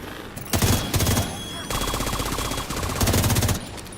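Video game gunfire rattles in rapid machine-gun bursts, several loud sustained volleys of concentrated fire separated by brief pauses, close and harsh.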